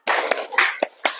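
A class in an ice-breaker game claps together in quick sharp bursts, about four or five hand claps in a loosely kept rhythm, not quite in unison.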